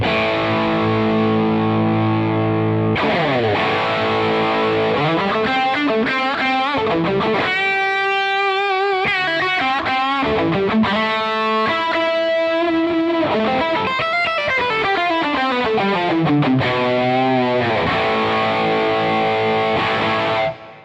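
Electric guitar played through a CKK SHXC Klon-style overdrive pedal, heard as loud, continuous overdriven chords and melodic bends and slides with no talking.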